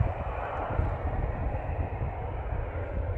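A Jet2 airliner flying near Manchester Airport, a steady distant engine roar with low rumble holding evenly throughout, no talking.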